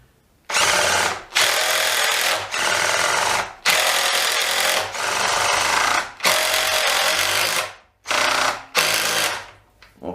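A cordless Ryobi R18QS hydraulic impact driver, then a DeWalt driver, whirs and rattles as screws are driven. The bursts are loud and close, about a second each, with short pauses between them.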